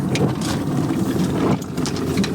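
A small outboard motor on a 20-foot sailboat runs steadily at a close, loud, even drone on a becalmed North Sea crossing, with no talking over it.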